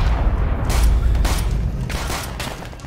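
Explosions and gunfire in the WWII shooter game Call of Duty: World at War, a steady barrage of booming blasts and bursts of shots, loud and dense throughout with no talk.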